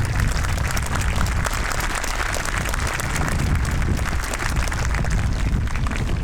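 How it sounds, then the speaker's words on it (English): Loud, sustained applause from a large crowd at a school groundbreaking ceremony, steady dense clapping that continues throughout with no voices standing out. "Please join me in a round of applause for these students."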